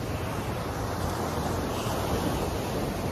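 Sea waves washing onto a beach, a steady broad roar of surf with some wind noise, continuous and fairly close.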